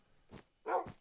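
A voice imitates a dog's bark with two short, close woofs about half a second apart, the second louder and fuller than the first.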